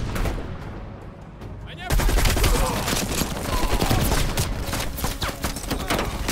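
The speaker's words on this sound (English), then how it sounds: "it was a heavy machine gun there. That's causing much of the trouble for us." Heavy machine gun fire in Call of Duty: Black Ops Cold War: a dense, continuous rattle of rapid shots that suddenly intensifies into a loud, sustained barrage with overlapping bursts and impacts.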